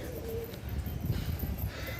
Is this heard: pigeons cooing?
yes